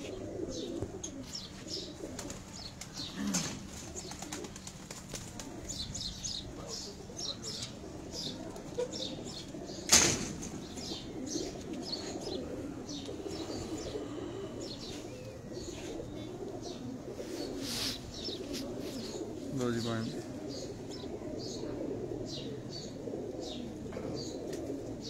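Flakesher pigeons on a rooftop coo softly and repeatedly amid steady chirps, with occasional bursts of wing flapping and one sharp flutter, heard close and without talk.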